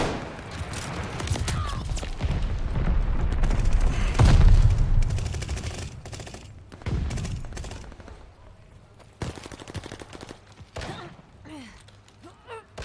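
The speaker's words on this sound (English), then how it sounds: "Allied glide bomber." Rolling blasts from a glide bomber killstreak in Call of Duty Vanguard, with dense explosions and gunfire building to a heavy peak before tapering into scattered bursts and thuds.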